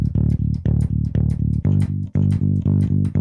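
Bass guitar in a chunky rock pattern of D octaves, steady repeated plucked notes loud and close, the pitch jumping between low and high in a driving rhythm, with no voice.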